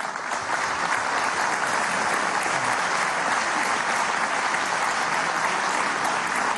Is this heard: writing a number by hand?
no